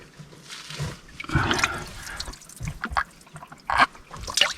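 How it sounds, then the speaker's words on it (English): Water trickles and burbles in a creek in the Kimberley, soft irregular splashes and drips close by, quiet with small bursts of louder gurgling. "I can hear a bit of water trickling."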